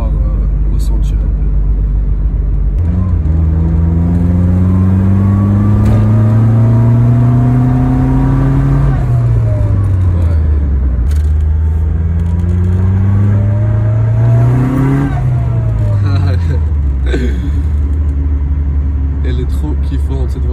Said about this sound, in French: je pense qu'il va faire quelques petites accélérations et on va pouvoir ressentir un peu